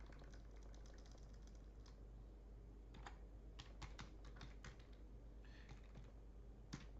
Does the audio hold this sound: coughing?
no